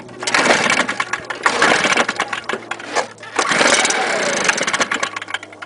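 Cold STIHL chainsaw on choke, its starter cord yanked repeatedly; loud rough pulls and sputtering kicks come in uneven bursts, nearby, with no talk.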